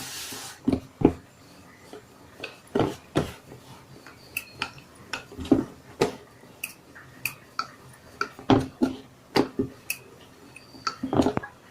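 Chola poori dough balls dipped in flour and rolled out with a rolling pin, heard as a steady series of close, soft knocks and rubbing thumps at an irregular pace, with no talking.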